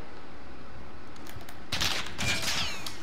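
Gunfire in the Modern Warfare beta video game: a quiet stretch, then a dense, loud burst of rapid automatic shots ringing out for over a second.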